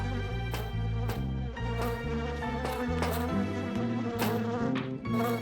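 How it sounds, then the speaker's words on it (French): A cartoon bee buzzes in a looping, wavering drone over a rhythmic musical backing, staying fairly quiet throughout with no speech. "Les abeilles ne mordent pas, elles te piquent."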